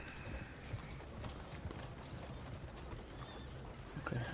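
Single horses ridden in Red Dead Redemption 2 give off faint, quiet clip-clopping hoofbeats in a loose, continuous rhythm.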